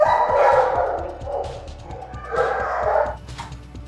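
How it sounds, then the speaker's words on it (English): Many dogs and puppies bark together in an animal shelter kennel room, a loud, overlapping chorus of yaps and barks in bursts, close and echoing. "So this is where the majority of our dogs come. The dogs and puppies of all kinds."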